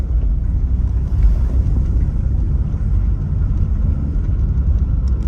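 A BMW E36 Compact, its engine throwing a check engine light, drives in second gear with a steady low cabin rumble and road drone that stays constant throughout, no speech over it.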